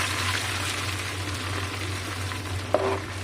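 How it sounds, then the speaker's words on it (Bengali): Hot ghee and oil sizzling in a pan while being stirred for Hyderabadi halim, a steady close bubbling fry with one brief clink near the end. "তো গরম তেলটা, ঘি আর তেল দিয়ে দিচ্ছি। এটা দিয়ে নেড়ে নেব ভালো করে।"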